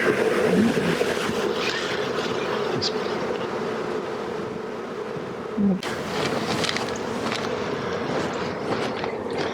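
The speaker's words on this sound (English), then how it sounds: "So lots and lots of bees." A dense, steady hum of a swarm of honey bees buzzing up close, continuous throughout with small shifts in intensity and one brief louder thump midway.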